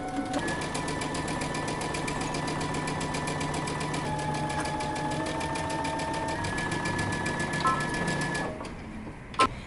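Sewing machine running steadily while stitching a dress seam with a 5/8 inch seam allowance at normal stitch length, a continuous close mechanical whir with a rhythmic needle rattle that stops near the end, followed by a couple of light knocks.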